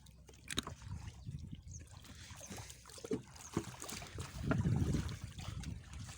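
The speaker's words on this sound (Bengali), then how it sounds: "নৌকার ভিতরে পানিটা ফেলাই দে" Water sloshing and splashing as it is bailed out of the bottom of a boat on a river sandbar in Koyra, with irregular nearby splashes and trickles over a low, rumbling background.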